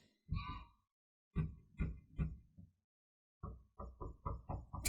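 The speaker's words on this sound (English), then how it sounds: "So now my son's just knocking the door" A child knocks on a door in bursts of dull, close thuds: a single knock, then a cluster of four, then a quicker run of six.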